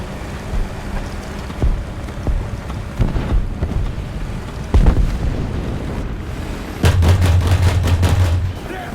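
Gunfire and shell ricochets clang off a tank in the War Thunder video game, with sharp impacts scattered through a windy, rumbling backdrop and a closing burst of rapid repeated shots.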